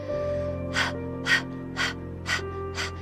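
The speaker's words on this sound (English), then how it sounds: "The first round is Kapalabhati breath" Kapalabhati breathing in a yoga class gives five quick, forceful puffs of air through the nose at a steady rhythm of about two a second, close and distinct over soft background music.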